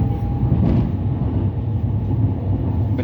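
Riding inside a fast MRT train in Taiwan brings a continuous low rumble and steady rolling hum with no break, close and enveloping.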